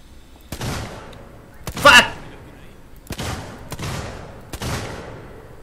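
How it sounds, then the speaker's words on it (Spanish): Gunfire from the Alien: Isolation video game, a handful of separate sharp blasts spaced about a second apart, one louder than the rest, with some speech-like activity around them. "Alguien no escucha estos disparos."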